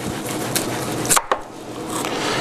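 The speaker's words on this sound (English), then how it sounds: "First we're going to chop the onion." Knife chopping an onion on a board, giving a few quick close cuts over a steady background hiss, with no talking.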